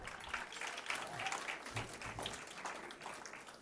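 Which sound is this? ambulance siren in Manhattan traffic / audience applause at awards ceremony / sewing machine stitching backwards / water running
audience applause at awards ceremony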